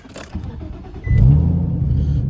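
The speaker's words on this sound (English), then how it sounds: "what I can do is start the car up and show you real quick" An Infiniti G35 coupe engine starts up: a brief starter whir, then the engine catches with a loud low rumble and settles into a steady, close idle.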